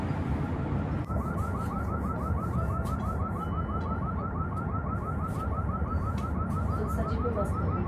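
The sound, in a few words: fire alarm ringing in a nearby house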